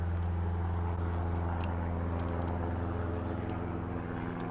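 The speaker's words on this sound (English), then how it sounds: "I think a helicopter's taking off over here." A helicopter taking off nearby outdoors gives a steady, loud engine and rotor drone with a constant low hum that holds throughout.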